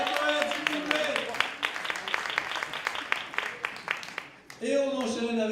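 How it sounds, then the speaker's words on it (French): A slam poetry audience applauds a poet, dense rapid clapping that holds steady for about four seconds then cuts off as a voice starts speaking. "On applaudit très fort la poète, s'il vous plaît."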